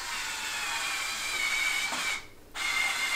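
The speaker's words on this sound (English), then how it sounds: "Grab my handy dandy drill." A handheld power drill runs slowly at low power, driving screws to fasten a vinyl cutter stand, a steady whirring motor hum that briefly stops near the end and then resumes, close and clear with no talking.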